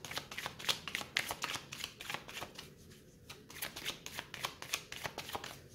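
Tarot cards being shuffled, a close, soft run of riffling and flicking card sounds in quick irregular bursts, quiet and without any speech.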